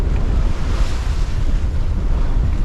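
Rough open sea about 12 miles offshore New Zealand, heard from a sailboat: heavy waves surging and crashing with strong wind buffeting the microphone, loud and continuous.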